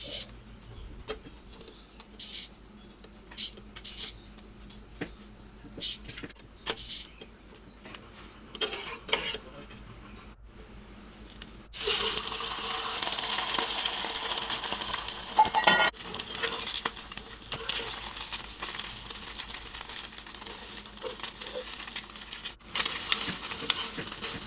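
Roti flatbread is rolled and then fried in a home kitchen: sparse soft taps and knocks come first, then a broad, steady sizzling hiss takes over, with occasional sharper clinks.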